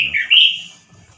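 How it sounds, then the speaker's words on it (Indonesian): A male orange-headed thrush gives a loud, close, shrill call, one short burst of bright whistled notes that quickly fades to quiet. "Burung ini nampaknya mempunyai karakter suara yang khusus,"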